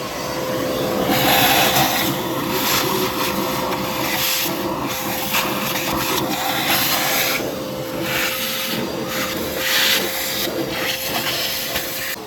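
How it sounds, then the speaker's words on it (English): A shop vacuum runs steadily during an oil cooler repair on a Chrysler 200, a loud, continuous whooshing hiss with a constant whine, its airflow surging and dipping as the nozzle moves. "Let's go ahead and turn on the vacuum."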